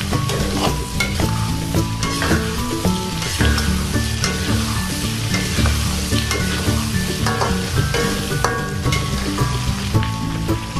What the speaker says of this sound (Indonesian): kemudian tumis bumbu yang sudah dihaluskan tadi. Tumis hingga wangi